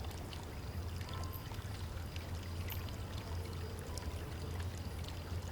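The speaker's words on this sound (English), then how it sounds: "I filled the bottle with water from the fountain." Water pouring steadily from a fountain into a bottle in the video game Foolish Mortals, a continuous, even splashing flow heard alone at moderate distance with no voices.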